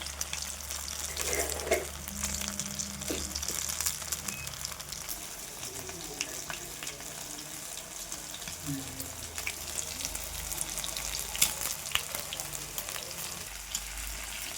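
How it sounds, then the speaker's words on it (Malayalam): Chicken frying in hot oil gives a steady, close sizzle and crackle throughout, with faint watery hiss and occasional clinks, and no talking. "നമ്മൾ തിളച്ചുകൊണ്ടിരിക്കുകയാണ് നമ്മുടെ ചിക്കൻ."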